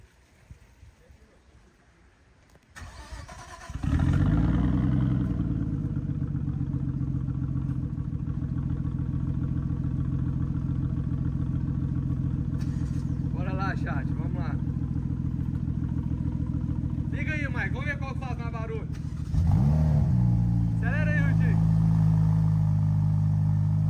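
A car engine revving hard against its rev limiter in a garage, holding a loud steady drone for long stretches while people talk over it, then climbing even louder near the end.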